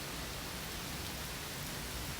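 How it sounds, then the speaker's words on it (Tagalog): Heavy rain pours steadily around a mini camper van under renovation, a soft, even hiss that stays constant and fairly quiet throughout, with no voices. "Lakas ng ulan"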